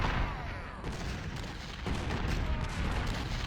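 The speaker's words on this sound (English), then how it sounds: "Look at all that artillery." Massed artillery fire during Pickett's charge in a Civil War video game, a dense continuous rumble of booms and volleys rolling on for several seconds with no clear gaps.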